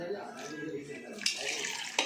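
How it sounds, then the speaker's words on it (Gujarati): Water is poured into soaked lentil batter for dal vada, a short close splashing trickle that swells in two bursts, fairly quiet. "હવે તેમાં થોડું પાણી મિક્સ કરી દઈશું આપણે"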